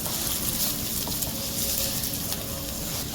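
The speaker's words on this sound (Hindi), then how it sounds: "और हाफ ग्लास के करीब मैंने पानी ऐड कर दिया है" Water splashes into a hot pan of chili pickle masala made with jaggery, setting off a loud continuous sizzle and bubbling hiss that stays close and steady throughout.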